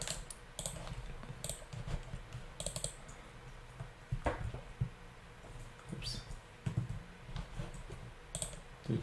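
Typing on a small computer keyboard with unusually spaced keys: irregular bursts of close, crisp key clicks with pauses between them, against low room noise.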